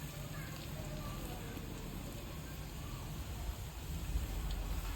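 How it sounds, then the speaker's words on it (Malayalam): Sliced onions dropped into hot oil with golden garlic and ginger for a pork fry give a steady, soft broadband sizzle and crackle throughout, fairly quiet and continuous. "നമുക്ക് അതിനകത്തേക്ക് നേരെ സബോള കട്ട് ചെയ്ത് സബോള ഇട്ട് കൊടുക്കാം."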